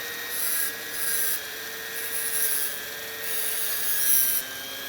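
A rotary tool grinds through a painted hacksaw blade: a high, steady whine with rasping bursts that swell and fade in roughly four passes, close and fairly loud, with no voices.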